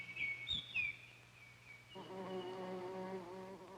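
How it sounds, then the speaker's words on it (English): A bee buzzes inside an iris flower with a steady, close drone that starts partway through, after a few faint bird calls over quiet outdoor background. "A bee has to crawl deep into the flower in order to get the nectar."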